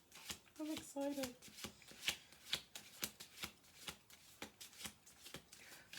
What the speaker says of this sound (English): I'm going to do 2 more shuffle throughs, and then I'm going to pull 2 cards.